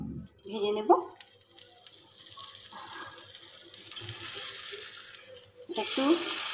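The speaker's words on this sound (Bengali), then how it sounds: "এবার আমি মাখন দিয়ে পরোটাটা ভেজে নেব।" A cheese paratha fries in butter on a tawa, with a soft hiss that builds and steadies over the clip as a voice speaks briefly at the start and again near the end.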